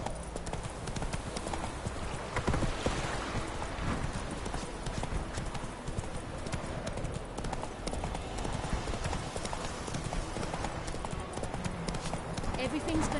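Roach, a horse in the video game The Witcher 3, gallops with steady, rapid clip-clop hoofbeats throughout, loud and close, with game music and a voice talking over the hooves.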